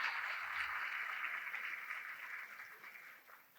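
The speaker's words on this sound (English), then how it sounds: "I think you deserve a round of applause" Faint, steady audience applause at a regional women's recognition event, continuous and slowly fading toward the end.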